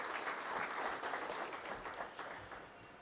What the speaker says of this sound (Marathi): आपण हे जोरदार टाळ्या वाजवून याचं स्वागत करूया